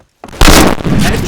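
A video game shotgun fires a single loud, close blast after a moment of silence, and its boom rolls on and decays.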